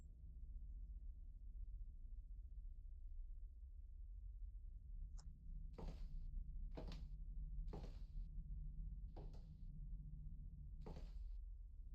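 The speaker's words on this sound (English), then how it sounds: "And he's fucking closing my door." A door swinging shut in the horror game Scrutinized, heard as a handful of short, sharp knocks and thuds spaced over several seconds above a steady low rumble, with no talking.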